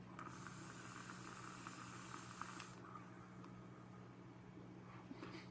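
A steady breathy hiss of vapor from an e-cigarette drawing a max-VG e-liquid runs for nearly three seconds and then cuts off, leaving faint background and a small click.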